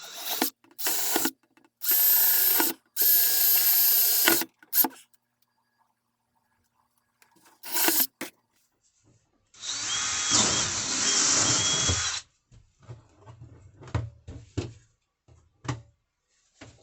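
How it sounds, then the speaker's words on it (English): A power drill boring holes into a DIY fermenter lid, several loud bursts of high whining drilling separated by silences, then a longer grinding run followed by scattered clunks and handling noises. "Now we just got to drill some holes in this"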